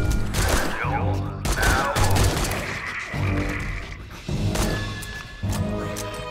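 Video game gunfire, heavy booming shots arriving in several spaced bursts with thuds between them, loud and close, mixed with voices.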